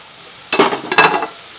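Chili powder and pepper powder tipped into onions frying for kothu chapati, two short bursts of sharp, close sizzling and stirring scrape after a quiet start, fading out within about a second.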